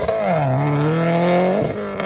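A car with a boxer engine revs loudly and close by, a sustained harmonic engine note that holds steady and then briefly dips before rising again, with no voices.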